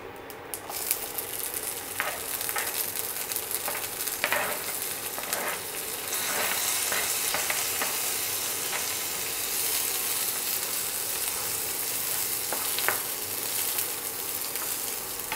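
Onions sizzling in hot tempering oil with cumin seeds, a steady crackling fry that swells louder midway and holds close and continuous, with occasional stirring clicks and no talk.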